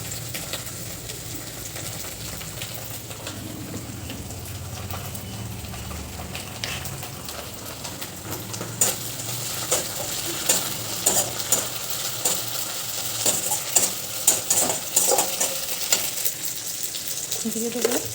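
Fish curry base fries in a pan as ginger-garlic paste is added, a steady near sizzle with soft stirring scrapes growing busier and crackling toward the end, no voices.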